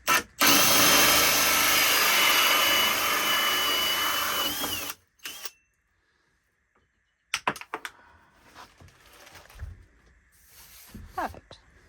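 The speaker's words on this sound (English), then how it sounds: "Should have just scored it and kept drilling from that side." A power drill whines loudly and steadily for about five seconds as it bores through a board in a DIY galley makeover, then stops, followed by quieter clicks and handling noises.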